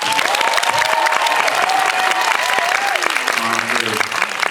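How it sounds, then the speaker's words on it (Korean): Dense, steady applause from a packed cinema audience greeting a guest at a film screening talk event, loud and continuous throughout, with scattered cheers and voices mixed in. "박수로 환영해 주세요."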